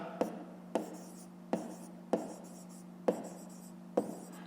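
A pen taps and scratches across paper while a maths exercise is written out, six short strokes at a steady pace, quiet and close, with no talking.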